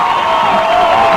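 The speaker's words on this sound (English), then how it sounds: "The home crowd loves it." A home crowd at a high school football game in Woodsfield cheers in one loud, continuous roar of many voices, heard from within the stands.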